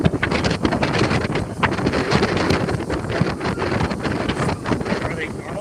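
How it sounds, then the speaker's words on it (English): Strong gusty wind buffets the microphone outdoors at Magic Kingdom, a loud, rumbling roar with irregular bursts that continues throughout. "We got a nautical breeze here, Bob."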